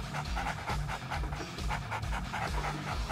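A dog pants continuously in a snowy video game setting, with rapid, rhythmic, breathy huffs that are loud and close and carry no talking.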